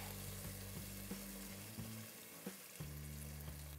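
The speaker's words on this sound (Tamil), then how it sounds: "அந்த புளி தண்ணி அதை கொட்டுங்க." Tamarind water pours into a hot pan with a loud, continuous sizzle, a few clinks and stirring knocks breaking through the hiss.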